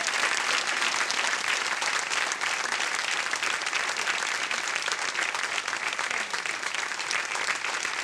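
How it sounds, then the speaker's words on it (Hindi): Studio audience on the KBC game show applauds loudly and continuously, a thick even roar of many hands clapping that fills the room for the full eight seconds without letting up. "तालियां बजती रहे।"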